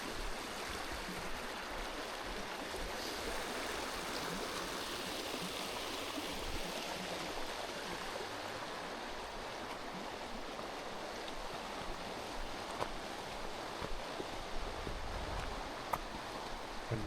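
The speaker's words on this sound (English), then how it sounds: "Crosses one of the many streams that pass through the park." A forest park stream flowing beneath a small footbridge makes a steady, even rush of water that carries on unbroken with no voices.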